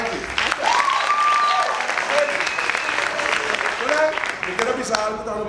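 Audience applause at a Komedia Korsou comedy stage show, sustained crowd clapping with shouts and talking voices layered on top.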